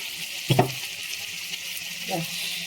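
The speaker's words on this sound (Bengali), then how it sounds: "এবারে আমার আসল কষানো শুরু হয়ে যাচ্ছে এইবারে আমি মশলাটাকে আস্তে আস্তে করে কষিয়ে নেব" Spices fry in a pan with pointed gourd and shrimp, giving a steady close hiss broken by two brief clattering stirs.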